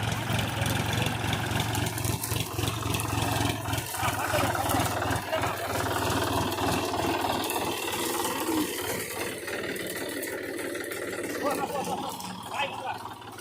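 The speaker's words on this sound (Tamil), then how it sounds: "டிராக்டர் வந்துன்னு இருக்குது." A tractor engine runs steadily during a mango-loading outing, a continuous mid-pitched rumble that stays beneath voices talking nearby throughout.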